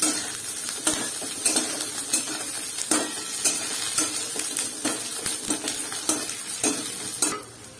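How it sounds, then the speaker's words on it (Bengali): Garlic cloves go into onions frying on low heat in a pan, giving a steady sizzle under repeated close scrapes and clinks of a stirring utensil against the pan. "এবার আমি কটা রসুনের কোয়া দিচ্ছি।"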